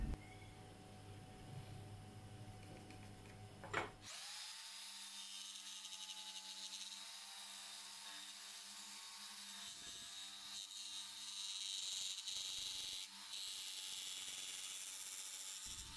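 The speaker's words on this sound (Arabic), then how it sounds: "وأبدأ أفرغه باستخدام منشار الأركيد" Fretsaw cutting out a recess in a natural wood shelf, a fast, steady rasp that sets in after a few seconds and keeps up at close range with small breaks and shifts in pace.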